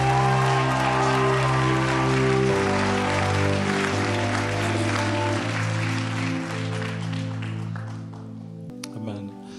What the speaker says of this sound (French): Est-ce qu'on donne une dernière bonne main d'applaudissement pour l'encourager?